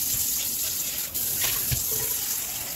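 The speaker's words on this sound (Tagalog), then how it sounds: "So, lalagyan lang po natin siya ng tubig." Water poured steadily into a pot of duck soup with winter melon, a continuous close splashing gush with no talk over it.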